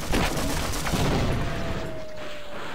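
Automated turrets fire in a Half-Life mod shooter game, a dense, continuous rattle of gunfire filling the whole moment at close range and loud.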